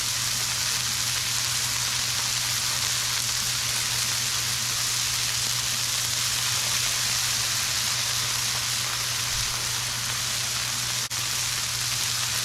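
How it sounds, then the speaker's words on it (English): Chicken pieces searing in a hot pan for a chicken bacon pesto sandwich, giving a steady, loud, dense sizzle that runs unbroken throughout with a constant low hum beneath, no voices. "I'm going to get a nice sear on these things."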